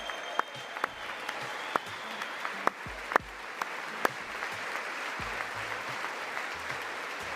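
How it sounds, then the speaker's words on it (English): An audience at a televised address applauds guests with sustained, fairly distant clapping, a few sharper claps standing out before it settles into a steady patter. "every time there's somebody in the crowd getting applause"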